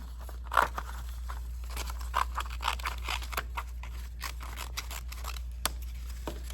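Scissors snip through paper in short, irregular cuts, close and fairly quiet, with a faint steady hum in the background and no talk.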